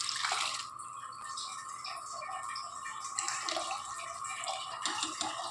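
Water pours into a cooking pot holding rice and cowpeas with a steady, close splashing trickle, joined by faint background clatter.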